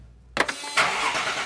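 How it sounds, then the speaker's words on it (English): Heavily modified car engine starts with a sharp burst and then roars loudly and steadily, close up and alone with no talking. "Perhaps the roar of the engine that's been heavily modified makes Robert Mayweather feel alive."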